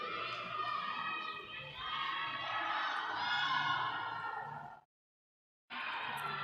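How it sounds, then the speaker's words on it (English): A crowd at a barrel race cheering and whooping loudly in sustained waves, cutting out briefly before the shouting resumes. "Ramon always cheering him on"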